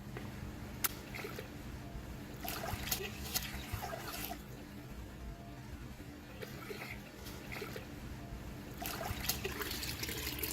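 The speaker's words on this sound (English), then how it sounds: "we're just going to let the water run in and out of the filter itself" Water runs in and out of a dirty car air filter as it is rinsed, a soft, steady trickle and splash with a few brief sharper spatters, fairly faint throughout.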